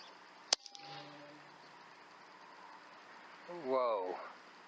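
A rifle fitted with an ATN X Sight II scope fires a single sharp shot that rings out over open ground and fades away, and a voice speaks a few seconds later.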